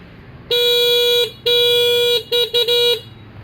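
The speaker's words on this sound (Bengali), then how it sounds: "এটা হর্ন অনেক স্মুথলি সাউন্ড করবে হর্নটা" The horn of a Shadow Heron 2024 electric bike gives a loud, close electronic tone: two long blasts followed by three quick short beeps, with no other sound.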